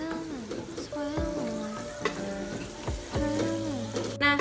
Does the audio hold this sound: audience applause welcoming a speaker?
no